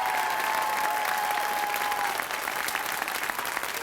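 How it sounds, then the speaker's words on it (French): Steady, loud applause from a large audience fills the whole stretch, dense clapping with no voices standing out. "Et j'aimerais qu'on l'applaudisse très fort."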